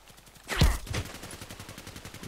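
Gunfire from a sniper rifle in a video game on the Longshots Lake map: one loud, sharp shot with a booming tail, a second blast right after, then a faint rapid mechanical rattle.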